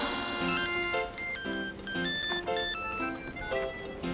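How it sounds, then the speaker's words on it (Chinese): A melodic electronic ringtone plays continuously, a repeating pattern of bright tones sounding close and clear with no voices. "幸好 Monica 的电话是打到我这里来。"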